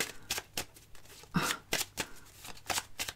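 Tarot cards being shuffled by hand, a series of quick papery riffles and slaps in an irregular rhythm, close and clear with no talking.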